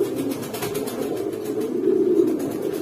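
A flock of pigeons coos steadily at a busy pigeon market where racing and homing birds are sold. The layered, continuous cooing comes from many birds at close range, with no talk over it.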